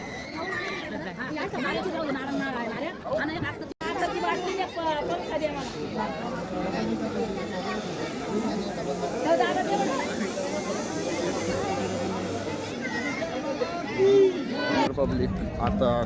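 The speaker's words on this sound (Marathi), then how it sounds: "खूप गर्दी आहे इथं" A packed Khatu Shyam temple in Chhatrapati Sambhajinagar with a long queue of devotees: constant crowd babble and overlapping voices fill the space, with nearer talkers over a dense murmur throughout.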